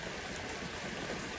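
Steady rain falling outdoors, a continuous faint hiss of drops on surfaces with no talking.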